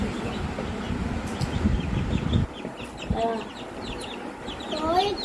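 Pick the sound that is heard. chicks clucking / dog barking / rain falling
chicks clucking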